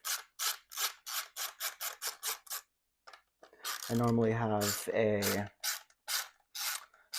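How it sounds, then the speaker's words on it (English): Plastic back clips are worked off a Milwaukee M18 utility flashlight bracket with about a dozen quick, evenly spaced scraping strokes, close and crisp, followed by a few scattered scrapes and someone speaking briefly in between. "we can pull these back clips off"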